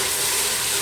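A short, steady splash of water pours into a cooking pot of spices, a brief, even hiss with nothing else heard.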